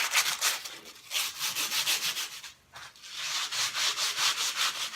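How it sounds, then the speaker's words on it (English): A piece of sandpaper rubbing by hand over ridged urethane in quick, even back-and-forth strokes, close and fairly loud, with one brief pause midway before the steady rhythm resumes. "you can just sand this urethane right now"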